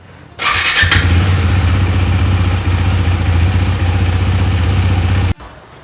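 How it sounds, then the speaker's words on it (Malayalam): A motorcycle engine cranks over and starts after an oil change, then settles into a steady, loud, close idle with a low throb for several seconds before cutting off abruptly. "ഫില്ല് ചെയ്തതിന് ശേഷം നമ്മളിത് ആ എൻജിൻ സ്റ്റാർട്ട് ചെയ്യാൻ പോവുകയാണ്."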